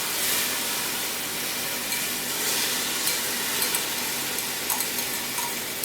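Frozen cranberries and chopped Fresno peppers sizzle steadily in a hot pan while being stirred, a close continuous frying hiss with occasional soft scrapes and pops.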